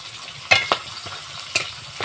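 Whole spices (dried red chilli, cinnamon, cloves, cardamom and bay leaf) tempering in hot oil, with a few sharp crackles and stirring clicks over a soft, low sizzle, close by with no talking.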